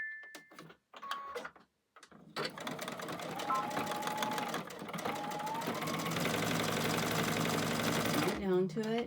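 Sewing machine stitching a fabric bowl coozie, a steady close whirring run after a few short starts, continuing loud for several seconds with a person speaking briefly over the start.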